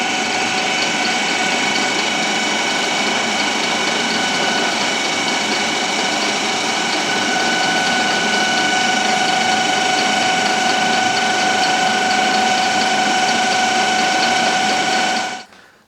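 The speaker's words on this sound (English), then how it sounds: "we're back on the lathe again" A metal lathe faces off the end of a Deutz 6006 tractor shaft, a loud, steady mechanical whine with tonal hum and gritty cutting noise running continuously before stopping abruptly at the end.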